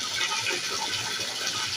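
Water gushes steadily from a tap into a bucket, a loud, close, continuous rush with no voices.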